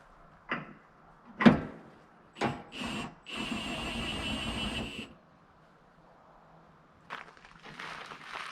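A drill driver set to its lowest torque runs a visor screw in with a steady whir of nearly two seconds. Scattered knocks and clicks of handling come before it, softer rustling follows, and no one talks.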